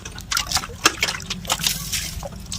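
Tap water splashes and trickles into a vessel in a home kitchen ahead of washing chickpea leaves, with irregular close sloshes and spatters over a low background hum.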